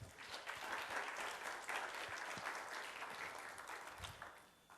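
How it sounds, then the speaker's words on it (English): Enthusiastic applause from a church congregation, sustained clapping filling the room for several seconds before tapering slightly. "If you believe that, give the Lord a hand clap."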